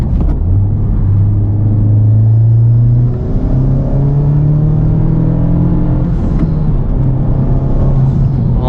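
A 2021 Honda Civic Type R accelerates at half throttle, its engine note rising steadily in a loud, close, continuous drone with a brief dip around the shift before climbing again.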